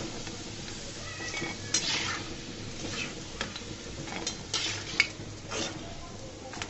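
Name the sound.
frying egg and flour snacks in oil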